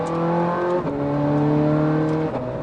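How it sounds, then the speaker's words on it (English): A Ferrari 430 Scuderia's engine holds a loud steady tone, then drops sharply in pitch at two quick gear changes before climbing again, heard close from inside the car with no talk. "Feel this gear change"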